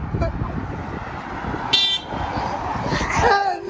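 A car passes close by on a road in the Bournemouth area, with a rising road roar, a brief horn-like tone partway through, and some voices in the background.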